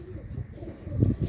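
A pigeon held in someone's hand gives low, soft coos in a few close pulses, growing a little louder toward the end.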